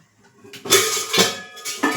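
A pressure cooker is set down on a gas stove with several close metallic clanks and rattles, three distinct knocks spaced across the moment.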